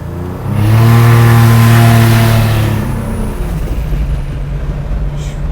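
A turbocharged Buick Grand National V6 muscle car making over 500 horsepower accelerates hard, its loud revving engine note rising and sustained for a couple of seconds, then fading into a lower steady drone.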